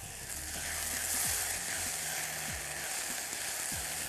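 Onion and garlic sauté in a pan, a constant loud hissing sizzle filling the whole stretch, with a few faint low sliding knocks from the pan and no voices.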